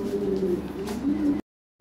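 Good-breed pigeons in a pen coo softly in a low, throaty burble for about a second and a half, then it falls silent.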